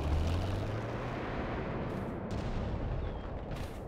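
Artillery gunfire in the real-time strategy game WWA RTS, a continuous dense roar of heavy booming shots rumbling low and loud throughout, with no speech.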